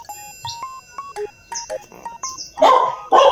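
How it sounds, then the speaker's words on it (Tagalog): A neighbour's dog barks twice near the end of the stretch, loud and fairly close, after a run of short electronic beeps in a yard garden. "May aso dyan sa kapitbahay, guys. Tatahol eh."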